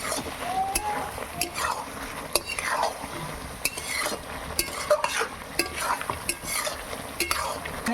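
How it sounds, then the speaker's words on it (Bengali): Mutton gets stirred in a frying pan with spices, a spoon scraping and clinking rhythmically over a low sizzle, close and fairly loud throughout. "তার একটু আমি কষিয়ে নেবো"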